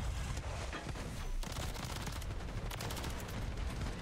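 Shotgun blasts in the Modern Warfare 3 video game crack out in quick irregular bursts over a dense, loud battle din, with no voices heard.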